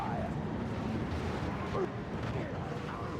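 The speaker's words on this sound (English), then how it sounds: "Some more explosions coming over onto this side." Battlefield explosions and artillery fire from the strategy game Dawn of War 2, a continuous rumbling barrage of booms and bursts with a few sharper impacts, dense and chaotic throughout.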